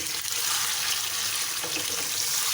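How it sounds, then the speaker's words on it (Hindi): Goat or lamb liver frying in hot oil over a high flame for a Sindhi liver curry, giving a loud, steady, dense sizzle that fills the whole moment without pause. "इसको तेज़ आंच पे अभी मैं भून लेती हूँ,"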